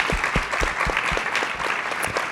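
Applause from a conference plenary audience, a steady wash of many hands clapping with a few louder claps near the front, sustained throughout.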